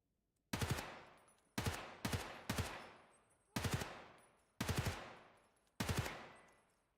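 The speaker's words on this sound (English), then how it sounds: "Horrible shooting on my part." Gunfire in the video game Escape from Tarkov, played in PvE mode: seven loud, sharp shots in an uneven rhythm, each with a short echoing decay and no talking between them.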